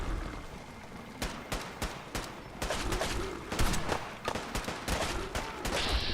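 Gunshots ring out in Fallout 4's Far Harbor, a rapid series of sharp, separate cracks spaced unevenly across a few seconds, fairly close and punchy over a quiet background.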